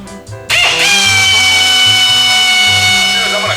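Power drill spinning up hard and running continuously while cutting a circular hole for LED tail lights on a 1941 Willys coupe, loud and close, with a high whine over a lower fluctuating growl.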